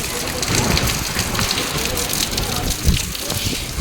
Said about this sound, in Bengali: প্রচুর ঝড় বৃষ্টি হচ্ছে